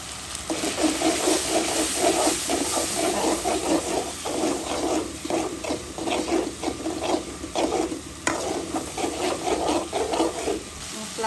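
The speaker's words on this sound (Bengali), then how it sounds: "মশলা ভাজাটা হয়ে গেছে।" Spices including coriander, turmeric and chili powder are fried and stirred in a pan for gizzard curry, a continuous close sizzle mixed with steady scraping and stirring, without speech.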